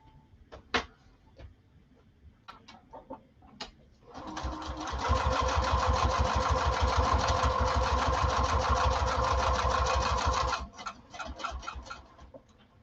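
A sewing machine runs a steady, fast burst of stitching along a seam an eighth of an inch from the edge, lasting about six seconds. Scattered clicks and handling sounds come before and after it, with no voices.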